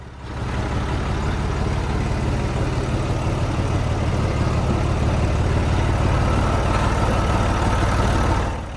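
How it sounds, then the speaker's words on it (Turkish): A Massey Ferguson 135 tractor engine runs up under throttle, a loud, close, steady diesel rumble that holds a constant drone for several seconds before easing off at the end. "Acaba şu gaza dokunduğumuzdaki sesi bir tek ben mi seviyorum?"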